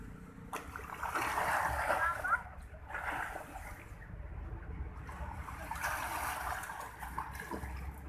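A person swims and splashes in a deep river, the water sloshing and splattering steadily at close range, with talk and exclamations from people nearby running through it.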